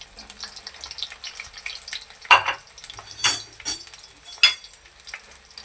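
Okra (bhindi) frying lightly in hot oil, a soft sizzle punctuated by a few sharp bursts of stirring and utensil scrapes, close and otherwise quiet.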